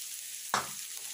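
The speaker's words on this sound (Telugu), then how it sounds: "మనం కొంచెం దీన్ని బాగా బ్రౌన్ కలర్ వచ్చేలాగా ఫ్రై చేసుకోవాలి." Onion sizzling in hot oil on its way to brown for a Telugu curry, a quiet steady fry broken once by a sharp, brief stir or scrape, close up with no voices.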